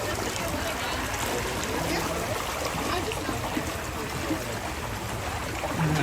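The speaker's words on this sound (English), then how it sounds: "The sound of all this water." Water rushes steadily around a boat on a Disneyland ride, a dense, even wash of flowing sound that runs unbroken from start to finish with no pauses.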